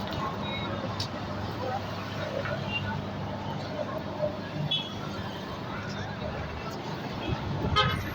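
Busy street traffic with buses and taxis passing, a steady roadway rumble carrying brief horn toots, with voices talking underneath throughout.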